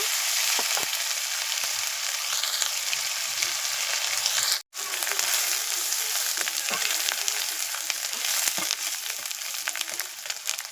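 Panch phoron, dried red chillies, bay leaf, chopped tomato and onion paste sizzle hard in hot oil, a loud, steady frying hiss with small crackles and stirring scrapes that briefly cuts out midway before resuming.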